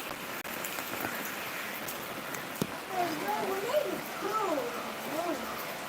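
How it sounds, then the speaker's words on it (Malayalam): Steady rain falls outdoors, making a continuous, even hiss of drops on surfaces, with faint voices in the background partway through. "മഴയാണ് നാട്ടില് ഇപ്പോ. ഇന്ന് രാവിലെ തുടങ്ങിയ മഴയാണ്."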